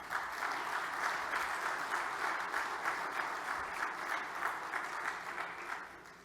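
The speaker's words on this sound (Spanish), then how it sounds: "Lo vamos a recibir con un fuerte aplauso" Conference audience gives sustained applause to welcome a speaker, even, continuous clapping heard at a distance and fairly quiet, with no talk over it.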